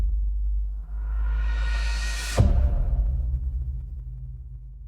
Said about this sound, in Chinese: 科幻能量护盾激活